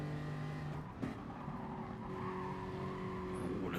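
Race car tyres squealing under load in a racing video game at Suzuka Circuit, with a sustained engine whine and a brief squeal around the middle, steady and close with faint commentary underneath.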